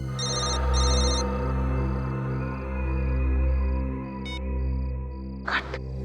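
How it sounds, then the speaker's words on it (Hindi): A telephone rings in a scene from the Indian TV crime drama CID, giving off repeated electronic beeping tones in a steady pattern. A short noisy burst comes near the end, and no one speaks. "उस तरफ से आवाज आ रही है फोन की।"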